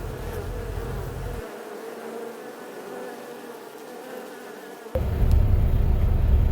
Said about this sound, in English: That tree over there is infested with bees.